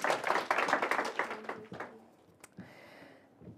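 Scattered audience applause at a pitch competition event, with brisk clapping that fades out after about two seconds into a few stray claps.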